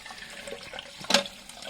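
A toilet cistern refilling with water through a faulty stop cock that fails to shut off: a soft, steady hiss of running water, faint and close, with a brief louder splash near the end.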